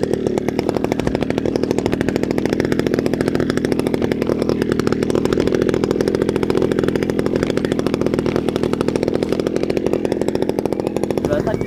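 A kite hummer made of adhesive tape buzzes loudly and continuously in the wind, a steady raspy drone like a two-stroke motorbike engine holding for the whole stretch.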